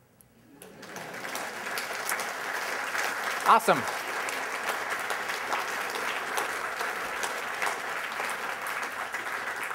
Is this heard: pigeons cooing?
no